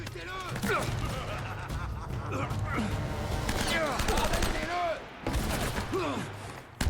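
Gunfire in the Uncharted video game crackles in repeated bursts beneath excited speech that runs almost the whole time, with a brief gap near the end before a final shot.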